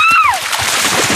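Lewis Pugh rushing into icy water, one loud close splash and churning surge that follows a short rising whistle-like tone, then fades into a washing hiss.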